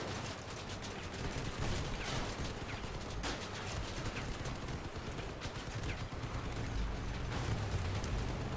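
Turrets fire in the CrossCraft game as dense, continuous rapid mechanical gunfire and ratcheting clatter, loud and unbroken throughout.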